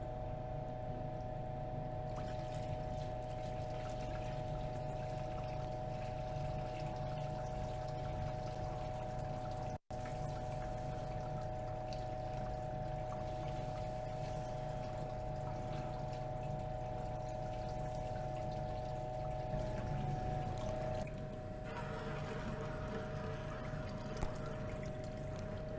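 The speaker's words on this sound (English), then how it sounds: "Now I'll start pouring the rinse water into our filter." Rinse water poured steadily into a filter while recovering gold from computer scrap, a continuous splashing flow with a constant pump-like hum beneath, sustained for the whole stretch without speech.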